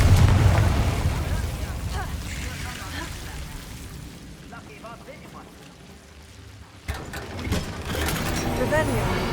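Confringo fire spell explosions in Hogwarts Legacy: a dense, rumbling roar of blasts that eases off mid-clip, then a sharp burst kicks in and the loud crackling resumes.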